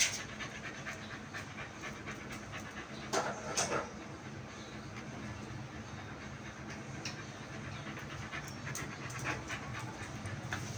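Dogs panting steadily and close by, a continuous breathy rhythm with a few louder bursts, no talking.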